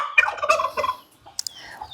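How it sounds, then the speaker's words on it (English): Domestic hens, apparently a backyard flock kept at a home in Luo country, Kenya, give a loud, close burst of rapid throaty clucking and gobble-like calls, then a pause and two short sharp squawks near the end. "What inspired you to have these hens here?"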